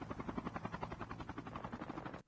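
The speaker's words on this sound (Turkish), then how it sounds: "Helikopter kaçtı." A helicopter in the mobile shooter Call of Duty Mobile thrums with a rapid, steady rotor pulse for a couple of seconds before cutting off abruptly.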